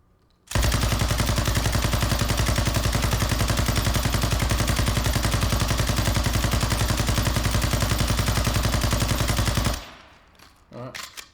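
A Sakin MG38 machine gun fires in Call of Duty Warzone 2.0 as one loud, unbroken, rapid burst lasting about nine seconds before cutting off into quiet.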